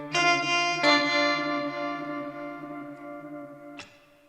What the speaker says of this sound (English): it's the first time using the double tank reverb pedal